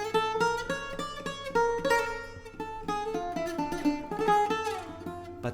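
Bouzouki picking a minor-scale melody in rebetiko style, with bright plucked notes over a steady low drone and rhythmic accompaniment, played continuously and close throughout.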